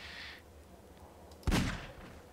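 A single loud .357 Magnum revolver shot in the Half-Life 2 video game bursts out sharply and decays over a low game ambience, preceded by a brief higher tone.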